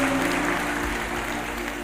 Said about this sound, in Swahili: Tupigie Pastor Frank makofi mazuri.